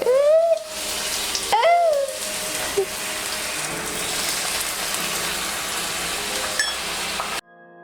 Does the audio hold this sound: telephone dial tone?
no